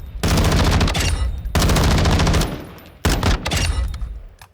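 Three rapid full-auto bursts from a VHS-2 rifle fitted with an O'Hara Arms grip in Call of Duty Modern Warfare II, loud and close, each a dense rattling stream of shots with brief gaps between.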